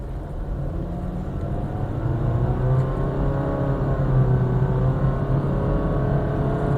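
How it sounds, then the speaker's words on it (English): A Honda Grace, the non-hybrid version, accelerates hard from 0 to 100 km/h in sports mode with windows up and air conditioning off, its engine droning and rising steadily in pitch as heard from inside the cabin. "That is the acceleration benchmark for this Honda Grace"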